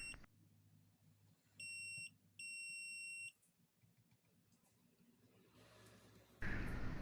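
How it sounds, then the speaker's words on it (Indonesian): Two shrill, steady electronic beeps from a multimeter continuity buzzer testing a short on an Axioo Pico laptop board, the first short and the second longer, over quiet background hiss. "Jadi kita coba bolak-balikkan, ini buzzer berbunyi."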